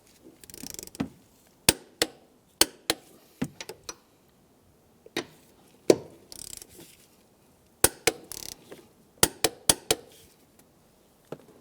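A torque wrench tightens the rear strut top nuts on a 2003-2011 Honda Element, giving close, irregular bursts of sharp metallic ratchet clicks separated by short pauses, with no talk.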